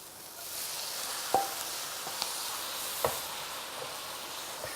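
Garlic and lentils sizzle in a small amount of oil in a pan, a soft steady frying hiss broken by a few sharp clicks and pops from stirring.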